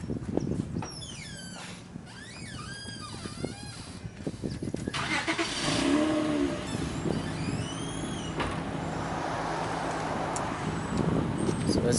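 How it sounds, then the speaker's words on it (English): A 2003 Honda Odyssey starts and its engine settles into a steady idle, heard close and fairly loud, with a few bird calls and other outdoor noise in the background. "I'm gonna go start the car and step on the brake to see if the brake light is on"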